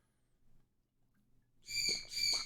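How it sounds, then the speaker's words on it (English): A frustrated pet bird gives two loud, piercing squawks back to back after a few seconds of near quiet, close by and with no talking. "that's a frustrated bird."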